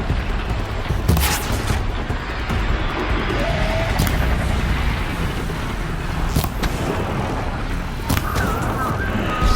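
Flintlock gunfire in the video game Horizon Zero Dawn, with several sharp loud shots spread over a dense, noisy combat soundscape full of rumbling effects.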